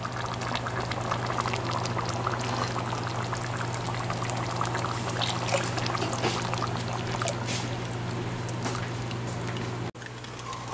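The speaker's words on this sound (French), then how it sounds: "c'est le temps d'ajouter mes 2 gros jus de tomate" Two large 1.36-litre cans of tomato juice pour steadily into a pot of meat sauce with partly cooked meat for spaghetti, a continuous liquid splashing and gurgling over a low kitchen hum, ending abruptly near the close.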